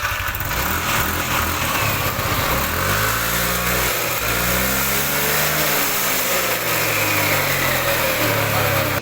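Yamaha NMAX scooter, freshly fitted with a new drive belt, rollers and clutch, idles and revs steadily with a buzzing single-cylinder engine note that rises and falls in pitch, close and loud throughout.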